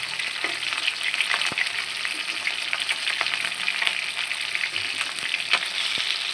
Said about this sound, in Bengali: জীবনে প্রথম অজানা মাছ ভাজবাছি